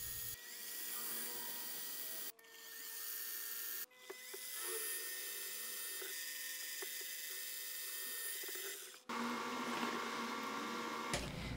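Steel plate for bicycle dropouts being cut with a power tool in a workshop: a loud, sustained high-pitched cutting whine running in long passes, broken by two brief pauses and a sharper, brighter final stretch, with no talking.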